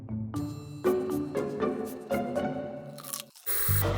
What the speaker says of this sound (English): I've been recently accused by you guys of chewing with my mouth open